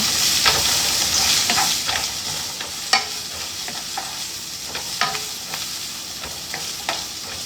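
Onions and garlic cook in a hot pan, a continuous close hiss of frying with scattered crackles and occasional spoon clicks as they are moved around, no voices over it.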